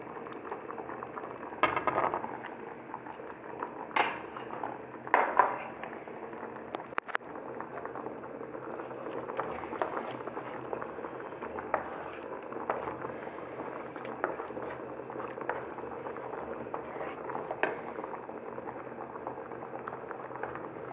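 Three beaten eggs cooking in a hot pan, a continuous bubbling sizzle with scattered pops and a few clicks early on.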